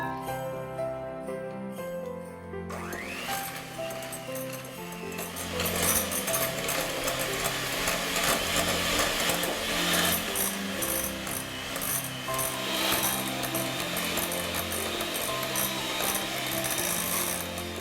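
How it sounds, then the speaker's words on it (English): A full cup of butter being creamed for orange spice crinkle cookies, a steady mechanical whir and rattle of a mixer running continuously, loud and close, with no talking. "We'll start by creaming a full cup of butter."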